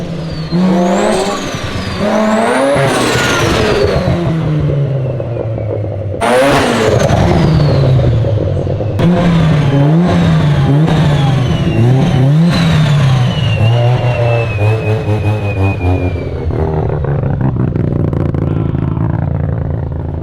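A turbocharged car with a massive journal-bearing Borg turbo revs hard through repeated loud sweeps, engine pitch climbing and falling between shifts with turbo whistle over the roar, sustained close and loud throughout.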